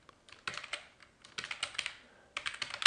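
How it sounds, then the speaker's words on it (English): Bursts of rapid keystrokes on a computer keyboard, close and clicky, in several short runs separated by brief pauses, with no talking. "So we type at the top the name of the use case"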